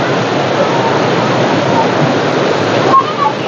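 Athirappilly waterfall in Kerala roars as a steady, dense broadband rush of falling water, loud and constant throughout, with rain spray in the air and faint voices briefly audible near the end.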